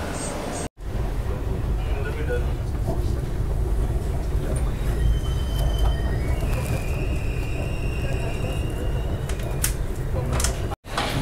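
Deccan Queen express train running from Pune to Mumbai, a steady close rumble of wheels and carriage noise throughout with rattling, heard from inside the coach, broken by two brief dropouts.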